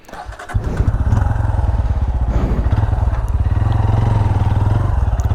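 A Yamaha MT-15 motorcycle on an extreme off-road track in Munnar starts up and keeps running with a loud, steady engine throb close by, with some rattling and clatter over the rumble.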